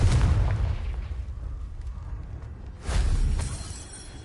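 Confringo blasting spell exploding in Hogwarts Legacy: a loud, booming blast that decays over a couple of seconds, followed by a second heavy explosion about three seconds in, each with a rumbling low-end tail.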